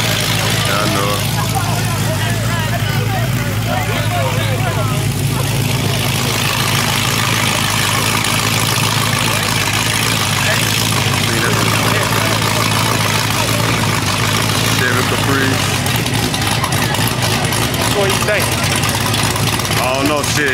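A Capri car idles on a late-night back street in Atlanta, its low engine rumble steady and close throughout while people talk over it.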